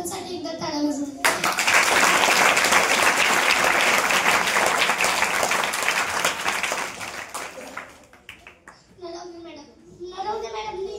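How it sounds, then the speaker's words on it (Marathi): An audience applauds a teacher at a school gathering, a sustained burst of clapping that swells and fades with children's voices and talk on either side. "सर्वांनी सरांसाठी एकदा टाळ्या वाजवा"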